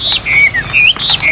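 Two wild-caught birds give clear, loud, whistled calls at close range, with rising and falling sweeping notes in short phrases and a few sharp clicks between them.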